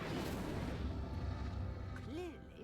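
Fire spell from Hogwarts Legacy igniting a pyre, a dense roaring whoosh that swells and then trails into whistling, crackling flare tones toward the end.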